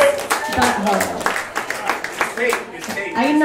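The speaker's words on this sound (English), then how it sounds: "Everybody, clap for Alex Miller." A comedy club audience claps for a comedian, scattered hand claps mixed with voices and chatter, moderately loud and brief.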